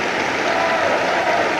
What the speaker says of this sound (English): the crowd applauded what looked like an unbeatable routine